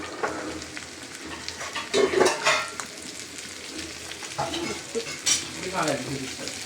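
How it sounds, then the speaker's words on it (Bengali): Chickpeas frying with spices in a pan, a steady close sizzle broken by spoon scrapes and stirring clatter, loudest around the middle and toward the end. "এই যে ছোলারে ভাজবো এখন মশলাটা দিয়ে দিলাম"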